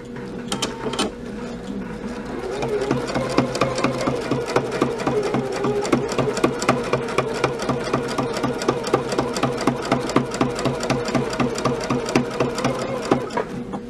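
Sewing machine free-motion quilting straight lines through a quilt at reduced pedal speed, a steady close mechanical hum with a fast, even ticking rhythm of needle strokes that continues throughout.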